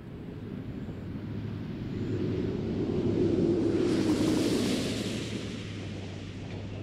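Space Shuttle Atlantis glides in toward the runway for landing, producing a steady, loud, broadband roar of rushing air that swells toward the middle and then eases slightly, continuous with no voices.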